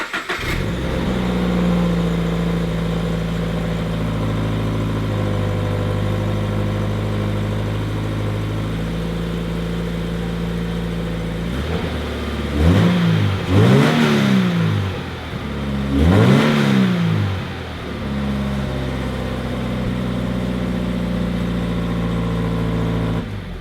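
A Toyota FRS engine with stock exhaust idles steadily, then revs twice in quick bursts before settling back to a smooth idle, close and loud.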